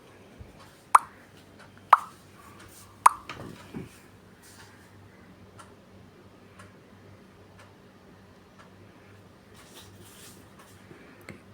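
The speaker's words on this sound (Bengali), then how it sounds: "আবারও নেড়ে চেড়ে দিব।" Chicken biryani is stirred in a pot with three sharp clacks of a spoon against the metal, then some softer scraping, and a long quiet stretch of faint simmering.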